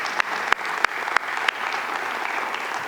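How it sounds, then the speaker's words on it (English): Audience at an investors' conference closing session applauds the presenters and organizers: a few sharp, evenly spaced claps stand out over a dense, steady wash of clapping that carries on briefly. "So if we could give a round of applause."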